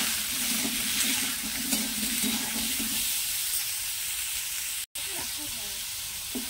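Raw mango frying in a pan with salt and turmeric, a continuous close sizzle with soft stirring scrapes, briefly cut by a sharp dropout near the end.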